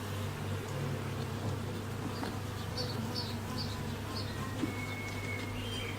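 Honey bees buzz steadily around an open hive frame of sealed honey during a colony migration, a dense close swarm drone holding for the whole stretch with a low background hum.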